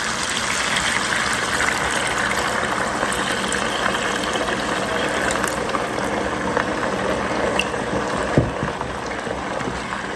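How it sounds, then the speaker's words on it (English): Water mixed with tomato paste and cornstarch pours into a hot skillet of ribs, a steady hissing, bubbling gush that stays loud and even throughout with no talking. "Now we're going to go in with 2 cups of water that has our tomato paste in it"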